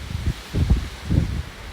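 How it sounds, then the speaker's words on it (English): Very strong wind at a cottage rustling leaves in three short swelling gusts, a soft low rushing sound at moderate loudness. "It's terrible wind today."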